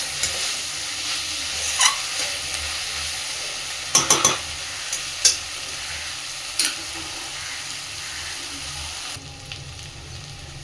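Potato, eggplant and small shrimp for a chorchori fry in oil over a medium flame, a continuous close sizzle broken by scattered clicks and scrapes of stirring, no voices.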